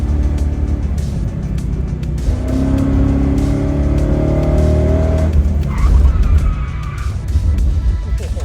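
A muscle car's wheels lock up in a hard braking skid on the Rob Roy hill climb, a loud sustained tire squeal layered over a rumbling engine, then the engine roars again as it pulls away.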